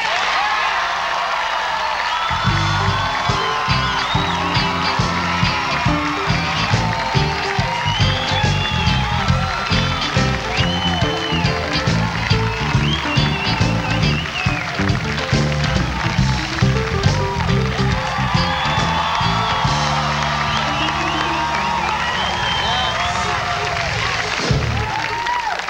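A television talk-show studio audience cheers, claps and screams for a guest, a loud, dense and sustained roar with music pulsing underneath throughout.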